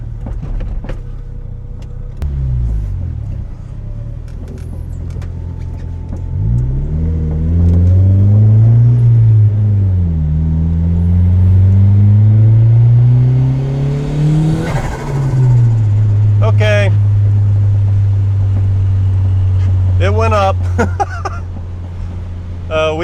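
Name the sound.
turbocharged Honda Civic engine accelerating under boost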